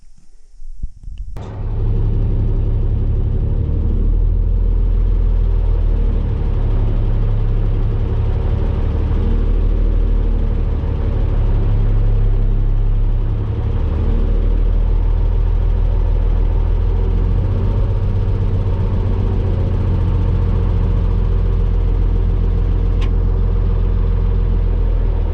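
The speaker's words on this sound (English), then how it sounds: "Here's the 5-ton. At a standard idle, about 700 RPM." A five-ton military truck engine idles steadily at about 700 RPM, a loud, continuous low rumble heard up close in the cab, unbroken and alone after a brief quiet start.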